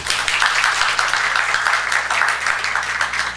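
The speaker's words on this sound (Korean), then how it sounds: "우리 박수 한번 할까요?" A church congregation applauding together, a steady dense wash of many hands clapping that holds at an even level for the whole stretch, close and full with no talking over it.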